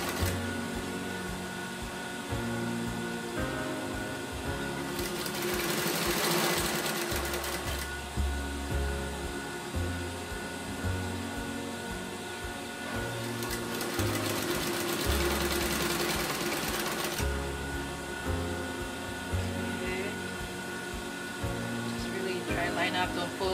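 Home sewing machine stitching bias tape for a Hong Kong seam, a close mechanical rapid patter running in several bursts with short pauses, partly under a speaking voice.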